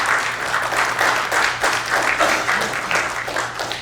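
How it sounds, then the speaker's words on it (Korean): A press audience at the 2024-25 PBA-LPBA professional billiards team league media day gives a steady round of applause to welcome the players, with dense, evenly pulsing claps filling the room and a faint low hum beneath. "여러분 큰 박수 부탁드리겠습니다."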